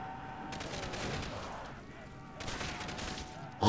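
Rapid bursts of gunfire from a Halo 3 weapon in a zombie custom map shooter game, two sustained volleys with a short lull between them, loud and close.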